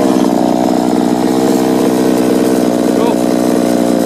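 A Losi 5ive T large-scale RC car's small petrol engine fires up with an electric starter and buzzes loudly and steadily at close range, a raspy two-stroke whine that wavers slightly in pitch.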